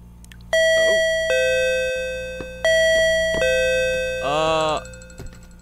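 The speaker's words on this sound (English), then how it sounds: "Guessing that's the doorbell." A house doorbell chimes in clear electronic tones three times in a row, close and bright, each ring ringing out before the next, while someone speaks briefly between the chimes.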